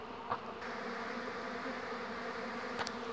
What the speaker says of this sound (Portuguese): um enxame forte, é um enxame novo e um enxame forte